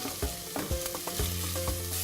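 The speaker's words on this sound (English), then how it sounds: "You can already hear it sizzling." Onions sprinkled with salt sizzle in a pan for a picadillo, a steady close frying hiss broken by several stirring scrapes at regular intervals.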